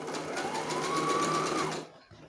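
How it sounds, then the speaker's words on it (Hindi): An electric sewing machine runs a continuous back stitch along a baby frock seam, with a fast, even mechanical whir close up for about two seconds before it stops, followed by a faint click. "यहाँ बैक स्टिच कर दूंगी जिससे सिलाई में मजबूती रहे"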